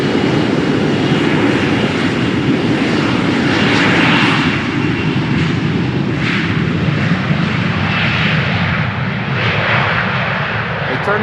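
A KLM Embraer 175 jet departs runway 36L at Amsterdam Schiphol, a loud, continuous broadband engine roar close by that holds steady and slightly shifts in tone as it climbs away.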